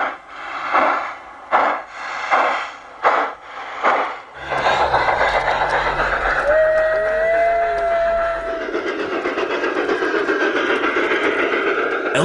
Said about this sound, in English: The first large-scale train with built-in sound effects.